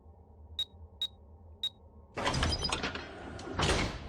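Three short electronic keypad beeps as a code is entered in the game Heaven Dust, followed by a louder mechanical rush of a door sliding open, with a second surge of grinding near the end.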